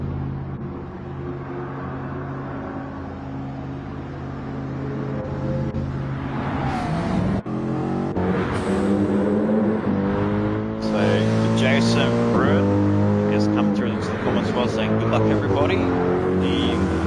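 Engine note of GT3 race cars in a sim racing game rolling into the pit lane, a steady layered drone with rising and falling revs, under continuous commentary.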